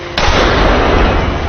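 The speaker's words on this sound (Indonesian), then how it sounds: "terjadi adegan tebak menembak agar Ronald bisa lolos dari geng Samedi." Gunfire in a gangster film shootout, a sudden loud onset followed by a sustained roaring, saturated wash of shots and noise that stays loud to the end.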